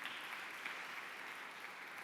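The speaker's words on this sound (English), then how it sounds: "let's all give another round of applause to Perry." An audience claps after a talk on designing open source communities, a faint but steady wash of applause that stays even throughout the brief stretch.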